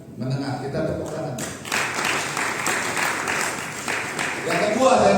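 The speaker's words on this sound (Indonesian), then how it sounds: "Kita tepuk tangan" Audience applause at an indoor business seminar, a steady wash of many hands clapping throughout, with voices mixed in near the start and a swell toward the end.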